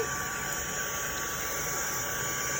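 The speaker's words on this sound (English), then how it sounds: "my heat gun, and I'm just going to dry this off" A steady, airy blowing roar with a faint high whine holds constant throughout, a small heat gun drying ink on a card nearby without pause.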